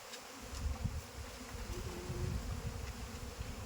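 Agitated Apis cerana honeybees fly around a hive during a colony transfer, their buzzing a low, steady swarm hum with small fluctuations, moderately faint and without speech.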